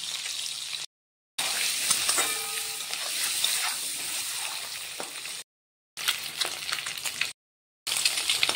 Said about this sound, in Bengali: ডিমটাকে এবার আমি ভেজে নিব।